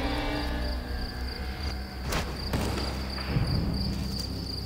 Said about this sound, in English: Field crickets invest a huge amount of time constructing burrows where they can sing and